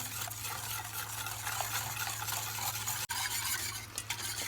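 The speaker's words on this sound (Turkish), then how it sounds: "Ocağa almadan önce biraz karıştıracağım tenceremi bu şekilde." Steady scraping and swishing of a spoon stirring a sugar mixture for pudding in a pot, continuous and close, over a low background hum.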